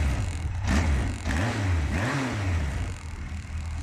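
A Yamaha FJ1200 motorcycle's stock exhaust burbles at a low, moderate rumble, rising and falling through a few gentle revs before settling back.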